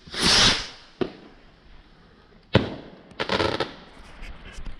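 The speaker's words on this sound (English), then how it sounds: "I'm going to try now, if I can, to shoot off one of these, hopefully you can see them, flame rockets and the booster rockets at the same time" Bonfire Night flame rockets and booster rockets firing off outdoors: a loud opening whoosh, then a sharp crack, another bang, and a crackling burst, all at close range with no talking.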